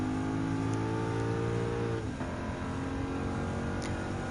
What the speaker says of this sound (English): The sound of the engine is good